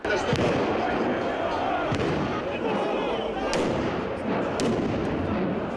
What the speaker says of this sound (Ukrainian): Навкруги починають безперервно розриватися вибухові пакети.